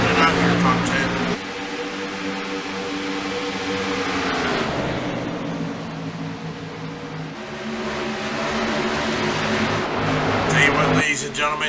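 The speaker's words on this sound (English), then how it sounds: "let's take a listen to these car sounds" Race car engines roar at Darlington Raceway during an Upper Edge Racing event, a loud sustained drone with shifting pitch that dips slightly midway and swells again toward the end.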